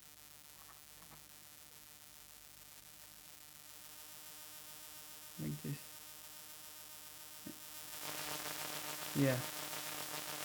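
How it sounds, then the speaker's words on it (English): An AE Modular waveshaper synthesizer module puts out a steady buzzing hum that grows into a louder, gritty static wash near the end, with a few short bursts and a person speaking briefly. "although the volume gets lower, can get some pretty static sounds too."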